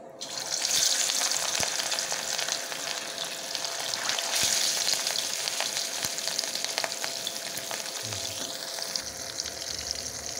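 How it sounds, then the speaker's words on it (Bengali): Rui fish pieces frying one by one in hot oil, a steady dense sizzle with crackling pops throughout, close and continuous, no talking. "তেলটা গরম হয়ে গেছে, এবারে একে একে মাছগুলো দিয়ে দেবো।"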